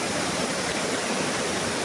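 River water rushes steadily in a continuous, even wash that fills the whole clip at a moderate level, with no voices.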